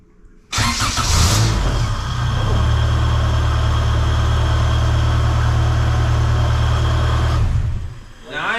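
A race car, an H2 with a GSR engine swap, cranks and fires up on the ignition switch, then settles into a loud, steady running drone close by for several seconds before cutting off. No one speaks.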